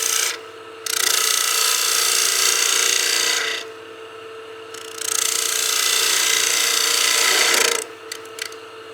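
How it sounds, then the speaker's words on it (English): Wood lathe spinning a bowl-shaped artifact pot while a 1/2-inch spindle gouge cuts wood in two long, loud, rasping passes separated by quieter running, with a few light taps at the end. "turn the speed on, and then I'll grab my 1/2-inch spindle gouge here. We can start removing material"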